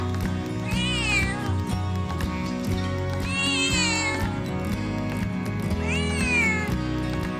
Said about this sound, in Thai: โอ้ดูซิใครทำน้องแมวร้องไห้เนี่ย